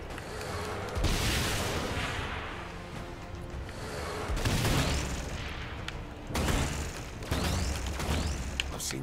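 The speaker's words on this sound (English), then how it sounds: "These explosions are strong enough to kill me." Saints Row IV explosions go off as several heavy booming bursts, with blasts landing about a second in and again near the middle and end, each followed by rumbling debris.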